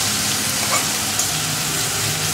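Steady, dense sizzling of onions frying in hot oil until browned, close and continuous with no pauses and no talking.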